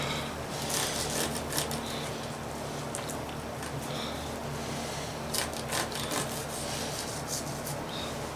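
A knife scrapes and slices silver skin from a raw pork belly on a cutting board, giving soft, irregular rubbing and rasping strokes close up, with no talk.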